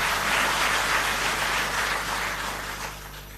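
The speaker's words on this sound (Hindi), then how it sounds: "एक बार जोरदार ताली हम दिल्ली जल बोर्ड के सभी अधिकारियों और सभी" An audience applauds at a public event in Delhi honoring Delhi Jal Board officers and staff, a steady wash of clapping from a large crowd that fades slightly toward the end, with a low hum underneath.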